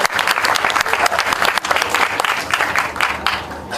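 Audience applause after a call to clap during a talk about Anies Baswedan and Indonesia Mengajar, a loud, dense burst of many hands clapping steadily throughout with crowd noise.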